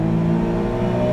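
A tiny Autozam AZ-1 turbo sports car accelerating at full throttle, a loud close engine drone with strong harmonics that holds steady and rises slightly in pitch over a brief burst, with no voices.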